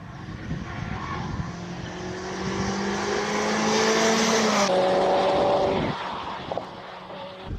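A 2-litre 16-valve all-wheel-drive Evo races up a hill-climb course at a speed classic in Cape Town, its engine loud and rising through the gears as it passes close by, then fading into the distance.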